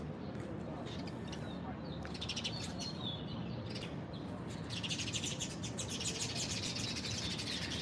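Small birds chirp and squabble in a busy flock, with dense, overlapping high tweets and flutters over a steady background hum, growing more frantic toward the end.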